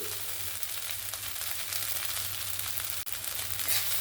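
Poha sizzles steadily in a frying pan as it is stirred and mixed, a continuous close frying hiss with a low hum underneath and no talking.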